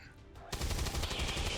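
A cannon fires in XCOM 2 as a sudden, loud, dense burst of rapid heavy shots that rattles on without a break after a brief quiet lead-in.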